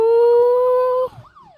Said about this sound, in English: Never thought I'd get excited to hear a police siren